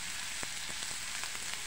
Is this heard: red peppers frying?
yes